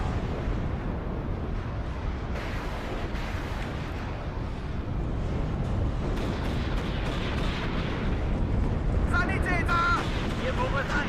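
Artillery barrage of about twenty rounds on an anti-aircraft piece in the wargame Warno: rumbling booms and rolling blasts repeat over a dense battle din, with brief radio-like chatter bursts near the end.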